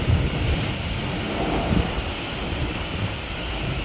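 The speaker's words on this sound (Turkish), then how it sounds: "Rüzgar geliyor ya." Strong wind blows at the seaside, a steady loud roar buffeting the microphone with the wash of surf beneath it, continuous throughout with no voices.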